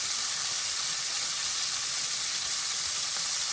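Shrimp searing in a hot skillet for Tuscan butter shrimp pasta, a loud, steady, bright sizzle hissing continuously without pause.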